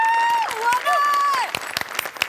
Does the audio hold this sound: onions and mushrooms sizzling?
no